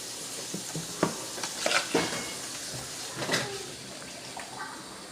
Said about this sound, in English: stir it around evenly with that S&P, the salt and pepper